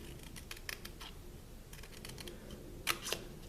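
Scissors snip small V-shaped cuts into scored cardstock for an Easter treat crate, a few quiet, sharp clicks scattered across a hushed room with no voices.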